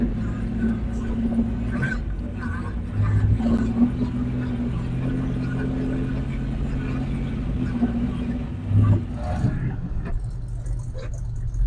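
Big Bertha, an old vehicle with an unadjusted carburetor and no brakes, drives up with a low rumbling engine that swells in a couple of brief revs, while people talk over it.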